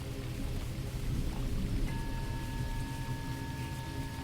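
Steady rain falling, a constant hiss of drops that stays even throughout, with a faint tone entering partway through.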